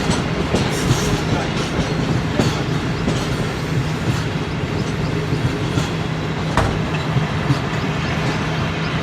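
Passenger train 101 Up on the Lahore to Rawalpindi line, heard from onboard as a steady loud rumble and clatter of carriage wheels on rail with a constant hum, approaching Gujranwala.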